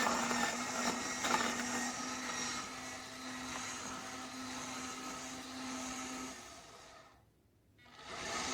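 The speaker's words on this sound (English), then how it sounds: "I'm just going to let this run through a fairly large dose of coffee and see how long it takes to grind it" Electric coffee grinder working through a large dose of coffee beans, a steady whirring grind with a constant motor tone that dips briefly near the end before picking back up, with no talking.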